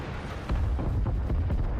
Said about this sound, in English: Oh, hear that ammo rack.